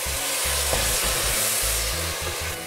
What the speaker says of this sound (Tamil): தக்காளி நல்லா வதங்கிட்டுருக்கு